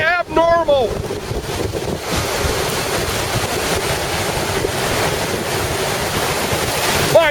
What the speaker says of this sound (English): The waves, the water does not get this high.